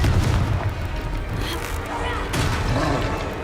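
A Confringo fire spell bursts in Hogwarts Legacy combat, a loud, rumbling blast that fills the moment and swells again near the end, with game voices under it.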